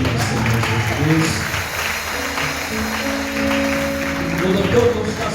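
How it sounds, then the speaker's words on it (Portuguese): A congregation at a church-hall lecture gathering applauds, its clapping rising and falling in a moderately loud stretch mixed with scattered voices and a faint tonal hum. "Vamos aplaudir o Senhor Jesus"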